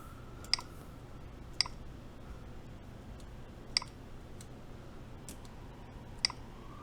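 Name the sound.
typing on a carbon fiber 60% mechanical keyboard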